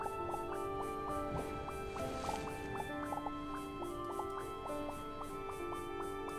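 Water drips steadily inside a dug mine shaft in the game Starbound, a quiet string of small pitched plinks repeating at an uneven rhythm over a low background hum.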